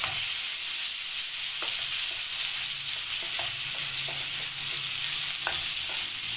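Chopped tomatoes land in a frying pan for chicken jalfrezi, bringing a steady, close sizzle of frying with repeated scraping stirs of a utensil across the pan.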